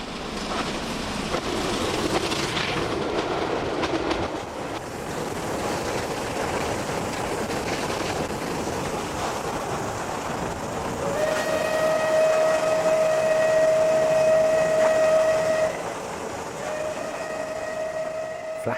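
The steam locomotive Clan Line runs at 40 mph with its regulator full open, a loud rushing roar of the running train, then a long sustained whistle blast followed by a second, shorter blast.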